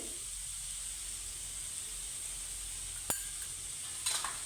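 Turmeric and coriander-cumin powder sautéing in a pan, a faint steady sizzle with a couple of brief clinks of a utensil.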